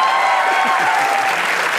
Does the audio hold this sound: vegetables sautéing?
no